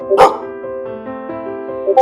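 A character's voice in Genshin Impact imitates a dog, with a sharp bark at the start, softer whimpering yips in between and another short bark at the end.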